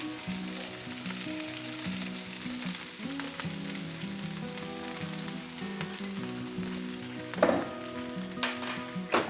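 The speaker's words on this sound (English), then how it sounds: "Now over here I have around 600 grams of cabbage. Okay, just going to pop that all in." Around 600 grams of cabbage sizzles and crackles steadily in a hot pan for an Indian-style mustard cabbage dish, with a couple of louder bursts of spattering near the end and no talking.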